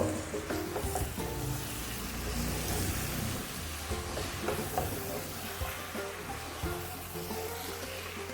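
Boiler chicken being mixed in a pan for an old-style Kerala chicken curry: a soft, continuous sizzle with muffled stirring and scraping underneath, fairly quiet and steady.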